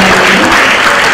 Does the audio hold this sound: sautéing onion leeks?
no